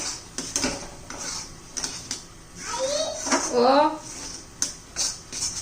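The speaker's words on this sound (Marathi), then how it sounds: "भाजलेला रवा घालायचा आहे तो व्यवस्थित मिक्स करून घेऊया" A spoon scrapes and clinks against a pan while roasted semolina is mixed into a carrot barfi mixture, in short irregular strokes with a voice and other speech nearby.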